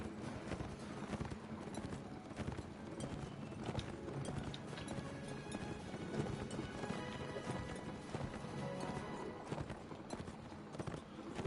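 Horse hooves gallop in a Mount and Blade: Warband battle, a fast continuous clip-clop at moderate level with a faint whinny and busy game ambience throughout.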